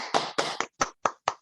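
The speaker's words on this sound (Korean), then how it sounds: "우리 로이 탁에게 힘찬 박수와 함께 시작하도록 하겠습니다" Six sharp, separate hand claps ring out in a quick, slightly uneven rhythm, close and clear with silence between them, welcoming a speaker at a Korean webinar.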